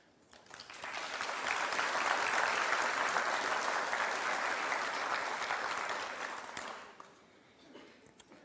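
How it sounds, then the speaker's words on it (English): Sustained applause from an audience at a local history talk about a townland, swelling quickly, holding steady for several seconds, then fading into a quiet room. "that round of applause was for Jim and not for me."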